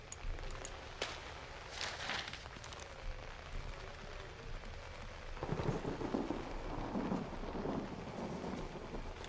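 Rain pours steadily in the video game Outlast while rumbling thunder rolls in partway through, growing heavier and louder toward the end.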